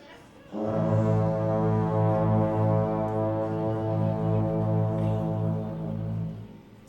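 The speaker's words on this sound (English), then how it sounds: "Can you hear the foghorn?" A deep, loud foghorn blast sounds after a brief quiet start and holds steadily for several seconds, fading slightly near the end.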